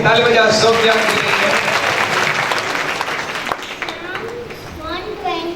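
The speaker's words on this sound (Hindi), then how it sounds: "ताली बजा सोफिया के लिए।" A church congregation applauds for a girl named Sofia during a service, a steady wash of clapping that starts loud and slowly thins out, with some voices mixed in.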